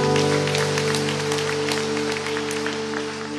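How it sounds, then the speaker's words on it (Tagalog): A church congregation claps together during a Filipino sermon, a dense, steady patter of many hands held close and continuous, with a sustained organ-like drone humming beneath it throughout. "Palakpak tayong lahat."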